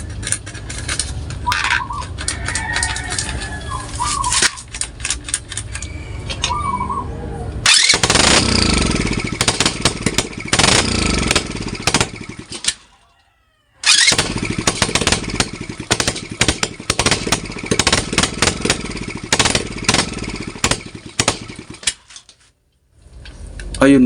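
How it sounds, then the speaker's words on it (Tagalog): A small engine bought online sputters and runs with weak power and low fuel, its rapid popping putter running loud and close, dropping out briefly twice before restarting. "kita naman natin na umaandar yung ating makina"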